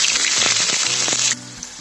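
Onion paste frying in oil in a pan for a spicy Telugu egg curry, giving a loud steady sizzle with scraping stir strokes that cuts off sharply near the end, leaving quiet room tone.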